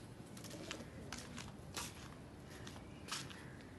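Pigeons cooing softly in a loft, low murmuring coos with light rustling and a few brief shuffling sounds, faint and close, no talking.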